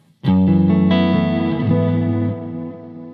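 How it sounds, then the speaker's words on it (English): A loud sustained distorted guitar chord through a recreated Roland Space Echo RE-201 tape echo rings out with extreme wavering flutter and echo, shifting notes as it slowly decays. "The flutter was pretty extreme, right?"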